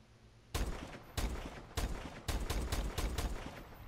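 Gunfire in Call of Duty Black Ops 3: about six sharp shots fired one after another at roughly half-second intervals, each a loud burst with a short tail, over a quiet background.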